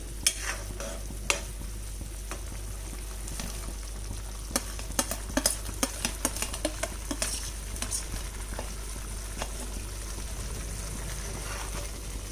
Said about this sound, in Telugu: ఇలా ఒక 5 మినిట్స్ అయ్యాక మనం ఘాట్ పెట్టుకున్న ఎగ్స్ ఇందులో వేసుకోవాలి.